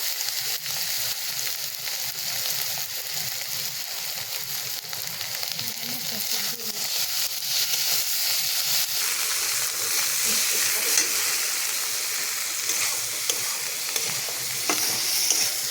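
Kochu bora curry sautéing in a pan, a steady dense sizzle that runs unbroken and loud throughout, with faint stirring scrapes underneath and no voices.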